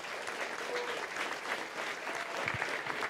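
Audience clapping for the cheese and wine team at a Debian closing ceremony, a moderate, continuous patter of hands from a room of people, fairly soft and even.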